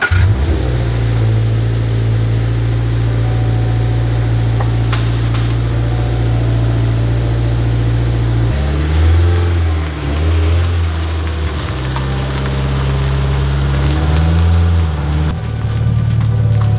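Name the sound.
Subaru BRZ engine revving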